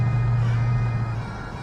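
Audi S6 C5 with a 4.2-litre V8 that has covered 430,000 km and is being run in, holding a steady, loud, close engine drone that barely changes over its short length.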